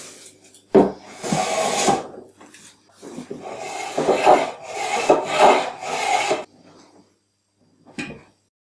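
A hand plane smooths pine face frames on a small wall cupboard in several rasping strokes of varying length, loud and close, followed by a pause and one short final stroke, with no talk.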